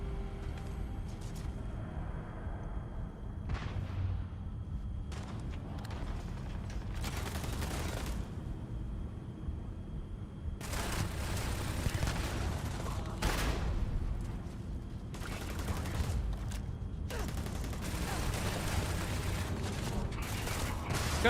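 Gunfire in the video game Starfield, with repeated bursts of rapid shots broken by pauses, mixed with mechanical clicks and creaks over a steady low rumble, some bursts louder and denser than others.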